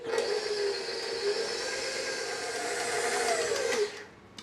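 An electric hand mixer whirs steadily through batter made with cornstarch, a continuous motor drone that holds for about four seconds before cutting off abruptly.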